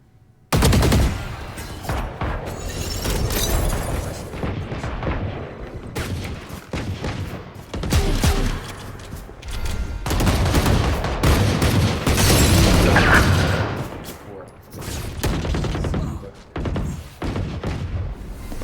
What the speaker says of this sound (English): burst rifles coming out.